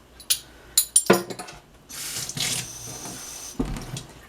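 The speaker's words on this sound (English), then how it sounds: "Might need a tad of water, just a tad, just a very small amount." A kitchen tap runs briefly after clinks of utensils and dishes, the water hissing steadily for a couple of seconds at close range before shutting off with a final clunk.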